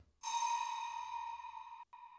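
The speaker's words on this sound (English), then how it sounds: "I then put it into a big spaced out reverb with a bit of pitch drift." Cowbell sample sent through a large, spacious reverb with pitch drift, blooming into a bright, sustained metallic wash that hangs for well over a second, briefly cuts out, then returns alone.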